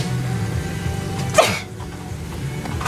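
A single sharp sneeze bursts out once in the middle of an indoor museum visit, loud and close against a steady murmur of background noise.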